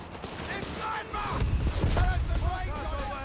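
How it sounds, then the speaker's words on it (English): Sniper rifle shots crack across a Company of Heroes 3 battlefield, sharp reports mixed with distant battle rumble while a commentator talks over the action. "We got Zulu sniper there, hard at work, picking off the Australians"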